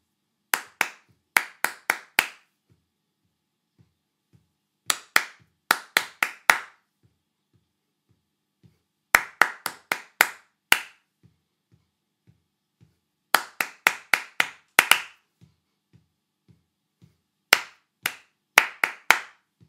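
Hands clap rhythmic patterns in four separate bursts of quick, sharp claps, each group followed by a pause with faint soft taps; clear and close, with no talking.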